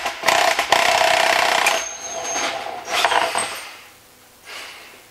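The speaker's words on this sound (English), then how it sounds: "I'm going to use my impact gun again and my 36 millimeter socket." Impact gun driving a 36 mm socket to remove the pinion shaft nut on a Porsche 915 transmission, giving a loud rattling burst of about a second and a half, then shorter fainter bursts, heard alone.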